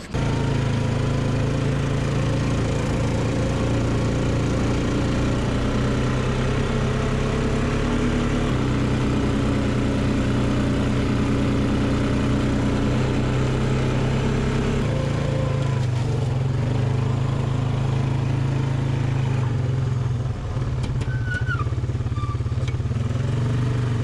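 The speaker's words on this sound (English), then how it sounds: "get back on the quad bike, head up the hill of difficulty" A quad bike engine labours up a steep hill on Pitcairn Island, a steady droning, clattering motor note held close and continuous, with slight shifts in pitch as it climbs.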